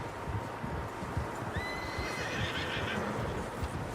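Horses in the video game Red Dead Redemption 2 whinny and neigh amid the clatter of hooves, with a long high-pitched whinny rising over the steady trotting.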